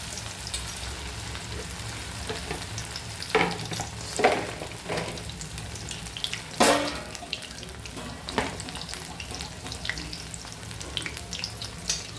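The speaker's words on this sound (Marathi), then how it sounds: "मस्त बारीक गॅसवर मी छान खरपूस तळून घेते" Soybean chunks, soaked and squeezed, deep-frying in oil over a low gas flame until crisp: a steady close crackling sizzle with several louder stirring scrapes and splashes, and no talking.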